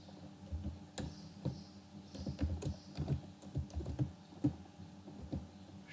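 Computer keyboard being typed on steadily while C code is entered, a close run of uneven key clicks and taps with short gaps, no voices.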